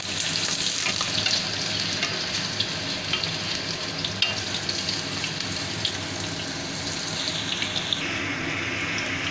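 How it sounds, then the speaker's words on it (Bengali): Potato pieces fry in hot oil in a pan, giving off a steady, dense sizzle close up that runs unbroken throughout, with faint crackling pops and no talk. "আলুগুলো ভাজা ভাজা হয়ে গেছে, আমি এটা উঠিয়ে রাখছি।"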